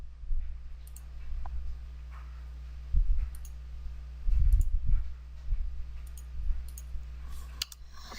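Computer keyboard keys clicking and a spacebar tapping while drafting building walls in design software, sparse soft taps at close range over a steady low hum, with a few louder clusters.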